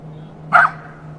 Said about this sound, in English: It doesn't seem to be wagging its tail anymore, and it's barking.